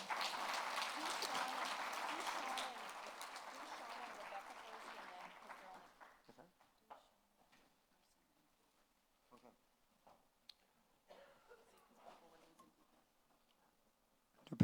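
Audience applause at a Native American Indigenous education summit, a steady, fairly loud round of clapping for about five seconds that fades out, followed by quiet room noise with scattered faint knocks.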